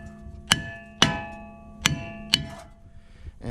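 Light hammer blows knock a rusted rear brake rotor loose on a 2019 Ford F-150 Raptor, corroded by road salt. Four sharp metallic strikes ring out at uneven intervals with short resonant tails, close and fairly loud.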